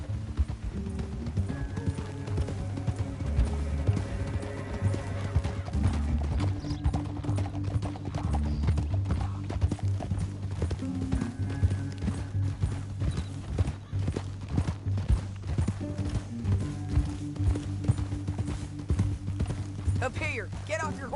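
Video game horses gallop with a continuous clip-clop of hooves over a droning music score, joined by a whinny and character dialogue.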